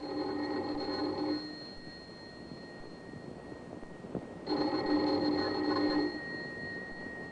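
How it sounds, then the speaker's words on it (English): Doorbell sound effect for a classic crime radio drama: two bursts of electric ringing, the first about a second long, a pause, then a second longer ring, with a steady high tone beneath. "Let's begin this tale with the ringing of a doorbell."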